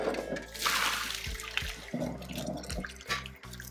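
Starchy cooking water from a pot of noodles for a shrimp stir fry pours and splashes into a sink, a steady close gush with a few hollow metallic knocks from the pot, no voices.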